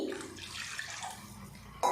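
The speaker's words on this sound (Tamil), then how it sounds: "இப்போ இதில் நம்ம புளி தண்ணி சேர்த்துக்கலாம்" Tamarind water is poured into a pot of garlic kuzhambu, a soft, steady liquid rush lasting a couple of seconds before a brief clatter at the end.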